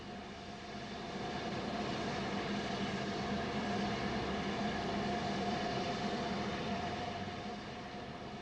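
LNER class E4 steam locomotive serving as the Cambridge pilot, heard as a steady, continuous rolling rumble with a sustained tonal hum, swelling in after a second and holding moderately loud before easing slightly at the end.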